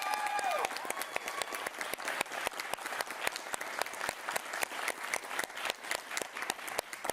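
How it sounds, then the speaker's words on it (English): Audience applause at a youth media celebration evening, a dense, steady patter of many hands clapping that stays loud and even throughout, with a brief tone and a voice fading at the start. "one more round of applause for our guests"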